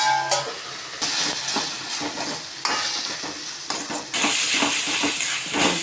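Mushrooms fry until crisp in a hot pan for a spicy curry, a steady loud sizzle with bursts of stirring and scraping throughout, no voices.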